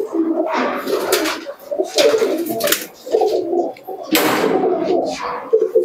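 Giribaz pigeons coo in repeated bursts at close range, a flock of domestic Bengali tumbler pigeons at a bird sale, with brief overlapping calls and short pauses between them.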